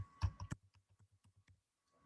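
Keys clacking on a computer keyboard while text is entered into an Excel spreadsheet, a loud burst of quick strokes followed by a steady run of lighter, evenly spaced taps that fade out.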